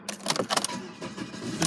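A green 2002 BMW 318ti SE automatic cranks with a few quick whirring pulses, then catches and settles into a steady close idle.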